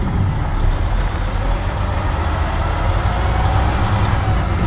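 Truck engine during a manual gear shift, a loud close rumbling drone with revs easing down, heard from the cab with no talk.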